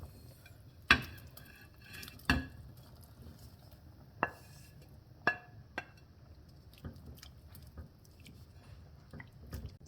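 Sausage tipped back into a pot of green chili and potato soup and stirred, giving a few sharp spoon clinks and knocks against the pot over a soft, faintly squishy background, close but quiet.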